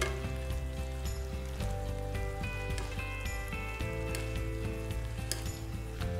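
Noodles with black chickpeas heat in a pan, a soft sizzle beneath a loud steady mechanical hum and low drone, with light scraping ticks from stirring.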